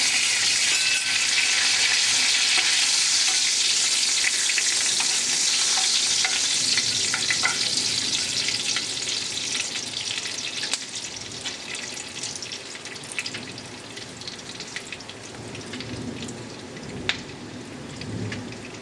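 Whole garam masala, cumin seeds and bay leaf sizzle in hot oil, a loud, dense hiss close up that eases slightly over time, with faint crackles and occasional stirring ticks, no voices.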